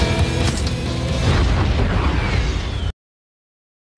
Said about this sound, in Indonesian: Ia pun maju dengan shield anti peluru yang sudah ditempeli oleh peledak dan maju kepada Julian.